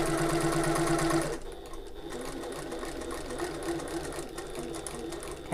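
A sewing machine stitches fabric along a 3/8 inch seam allowance toward a marked point, a loud, fast, even mechanical hum that drops slightly in intensity partway through and keeps running steadily.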